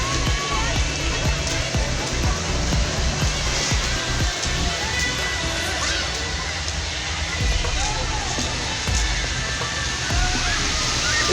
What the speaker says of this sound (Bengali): ঝর্ণা বেয়ে বেয়ে নিচে চলে যাচ্ছে